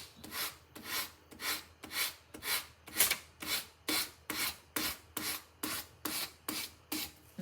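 Paper napkin on an owl craft project is sanded with steady back-and-forth strokes, about fourteen even rasping rubs in a regular rhythm, close and clear.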